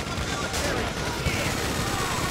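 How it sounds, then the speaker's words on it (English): Trevor's machine gun blazing during the Paleto Score heist in Grand Theft Auto 5, a steady stream of rapid gunfire rattling under a busy, noisy mix for a couple of seconds. "I like this fucking machine gun."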